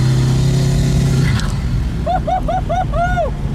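A Koenigsegg Regera hypercar on throttle with a large crowd nearby: a loud, close, steady engine drone that drops away after about a second and a half, followed by a series of short, repeated rising tonal chirps.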